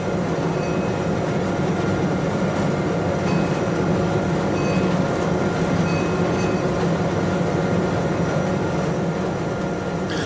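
A Portuguese Railways class 1800 diesel locomotive running on full power, heard from inside its spacious, poorly soundproofed cab: a loud, steady, resonant engine roar with constant rumble and no pauses.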